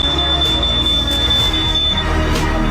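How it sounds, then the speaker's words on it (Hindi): A smoke alarm goes off after something is burned right beside the detector indoors: a loud, steady high-pitched tone over a busy background rumble for most of the stretch. "अच्छी बात यह रही कि उसकी कोशिशों के बाद आखिरकार अलार्म सफलतापूर्वक ट्रिगर हो गया।"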